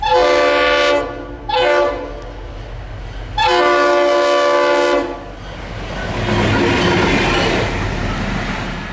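A Florida East Coast Railway local train's horn blares in three long, loud blasts close by, followed by the rumble and clatter of the northbound train rushing past.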